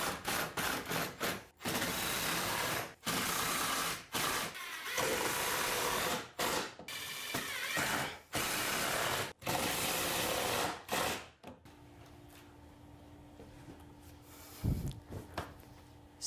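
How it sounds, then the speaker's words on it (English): A power drill drives screws into a pull-up bar mount, a series of loud whirring bursts stopping and starting in quick succession, followed by quieter handling noise near the end. "I'm just gonna drive in the remaining 6 screws, 3 on each side."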